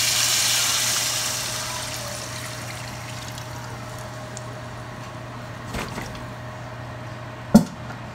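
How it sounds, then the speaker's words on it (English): Water pours steadily into a frying pan of chicken feet curry at the start, the rush fading to a low hum, followed by a couple of sharp clinks near the end. "I'm going to just go ahead and add the water"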